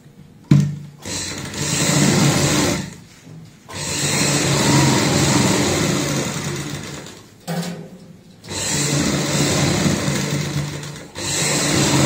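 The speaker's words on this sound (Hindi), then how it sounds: "दोनों साइड में हमने ये सिलाई लगा ली है, इस साइड में भी और इस साइड में भी।" A sewing machine stitches the side seams of a handmade travel bag, running in three long, loud, even bursts of rapid mechanical whirring separated by short pauses.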